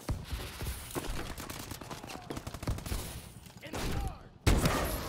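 Rapid gunfire in the Call of Duty Advanced Warfare battlefield, dense bursts of shots and clattering fusillades in quick succession, moderately loud, with a voice speaking briefly among them.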